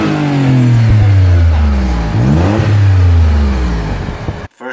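A modified Audi B5 S4 engine revs hard up close, climbing and falling through several loud sweeps before the sound cuts off abruptly.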